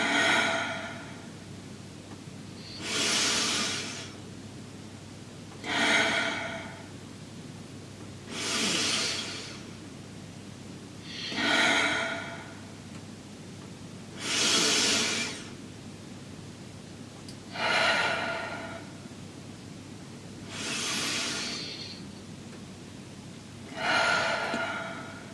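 Slow, deep meditative breathing, close and clear, with about nine long airy inhales and exhales spaced evenly a few seconds apart over a steady low hum, no talk.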